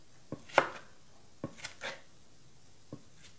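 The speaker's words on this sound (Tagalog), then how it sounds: "ganito rin lang guys, ang paghiwa ng kamatis" A knife slices through tomato on a cutting board, giving a few sparse, distinct chopping knocks with pauses between them, close and fairly quiet, with no talking.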